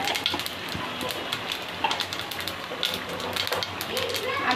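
Cumin seeds sizzle in hot oil for tempering a mutton curry, giving a steady, crackling fizz with small pops that runs the whole time while a voice talks over it.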